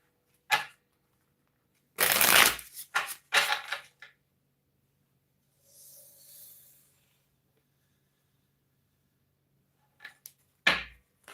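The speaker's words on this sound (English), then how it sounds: "let's go and get the cards of this shuffle right here" Tarot cards are shuffled in several sharp, riffling bursts near the microphone, separated by quiet gaps, with a faint noise in the middle and a couple more quick riffles at the end.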